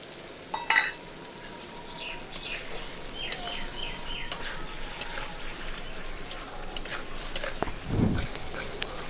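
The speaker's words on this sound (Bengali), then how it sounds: "খুব ভালো করে মশলাটা কষে নিলাম।" Spice paste with ground mustard sautés for a tilapia curry, crackling in a soft, continuous sizzle, with occasional clinks and scrapes of stirring and faint background sounds.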